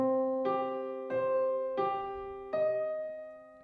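A piano keyboard sound with Music Academy reverb plays four spaced chords, each with a soft attack and a roomy, lingering tail, quiet and alone without talk.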